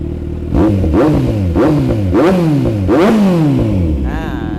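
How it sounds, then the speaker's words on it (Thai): A 2018 Kawasaki Z900 SE motorcycle engine revs repeatedly, five or six loud rising and falling throttle blips from the exhaust, close and forceful, before settling back to idle. "ทีนี้เราไปฟังเสียงท่อกันนะครับแล้วก็เสียงเครื่องยนต์นะครับ"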